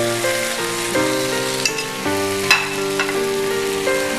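Chicken and fried onions for a chilli chicken roast are stirred in a hot pan, a steady sizzle with a few sharp scraping knocks from the spoon.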